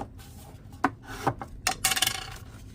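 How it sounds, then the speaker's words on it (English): Scored cardstock for a gift card holder rubbed with a burnishing tool, a few short scraping strokes building to a quicker burst, close and quiet. "I'm just going to score on it both ways, or burnish it both ways, just to make sure it moves really well"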